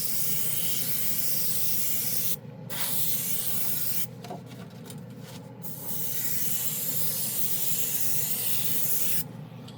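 An airbrush sprays Glacier Blue Ice paint onto plastic in a close, steady hiss, cut by several brief pauses where the spray stops and restarts.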